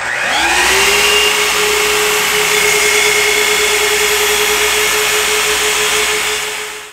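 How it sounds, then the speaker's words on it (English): A miter saw cuts wood rails to length for a butterfly-leaf dining table. The motor spins up into a loud, steady whine that holds for several seconds, then winds down, close and with no talking. "So I'm just going to go over to my miter saw, line up my laser on that"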